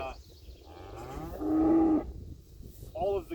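Cattle at a show moo close by, one long, loud, drawn-out bellow rising in the middle and a shorter call starting at the end, with faint low murmuring between.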